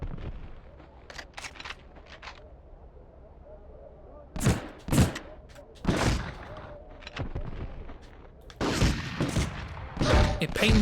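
Bursts of gunfire in Medal of Honor: Underground as shots are fired at a fez, loud clusters of rapid cracks separated by quieter gaps, with a voice speaking between them.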